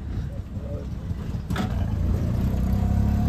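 A car drives along at a farmhouse, its steady engine and road rumble loud and close throughout, with a brief rattle midway and the drone building slightly toward the end.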